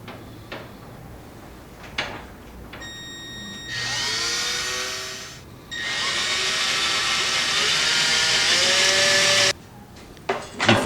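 Power drill boring holes in a karaoke TV stand, running in two long sustained whirring bursts with a brief pause between, preceded and followed by a few faint handling clicks, close and fairly loud.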